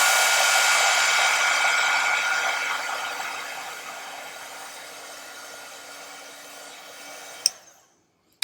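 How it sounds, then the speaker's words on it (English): A heat embossing tool blows hot air onto thick embossing powder, a steady close hiss that slowly softens and fades before cutting off with a click near the end. "I'm just going to heat it up in some places to get it good and sticky"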